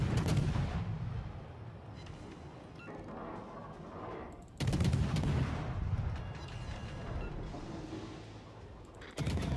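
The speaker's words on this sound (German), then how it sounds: "Ich schieße doch gerade hier." Heavy naval gun salvos in World of Warships, two big booming blasts a few seconds apart, each followed by a long rumbling decay, loud and close with no talk.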